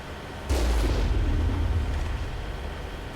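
A single heavy boom of Mako vehicle cannon fire in Mass Effect, striking snowy ground, loud and close with a low rumbling tail that slowly fades.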